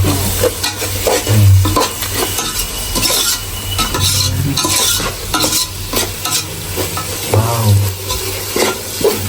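Eggs stir-fried in a pan sizzle continuously while a utensil scrapes and clinks against the metal, close and fairly loud throughout.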